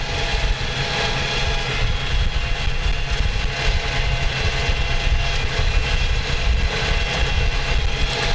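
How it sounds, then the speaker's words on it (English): A tractor engine pulling a plow of up to four furrows in a field, a loud, steady, close drone that holds constant throughout with no talk. "if you have more than 4 furrows, then this tractor can't pull it anymore"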